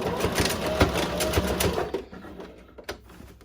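Sewing machine back stitching the end of a fabric placemat, a fast rhythmic needle chatter for about two seconds that then stops, leaving a few soft clicks.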